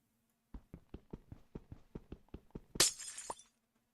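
A fancy stained glass block in the game Stone Block 4 takes a quick run of about ten evenly spaced, faint mining taps and then shatters in a bright, short burst of breaking glass.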